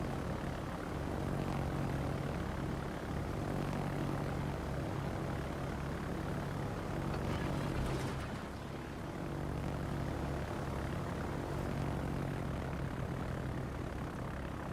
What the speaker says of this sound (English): Sarge, don't care about your planes.